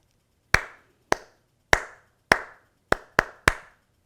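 Hands clap an eighth-note rhythm, seven sharp, close claps with crisp attacks, evenly spaced at first and then quickening into a pair near the end, with silence between and no talking.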